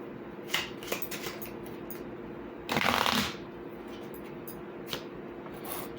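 Playing cards are shuffled for a cartomancy reading: soft riffles and taps close by, with one louder, sustained riffle burst in the middle, all heard alone without talk.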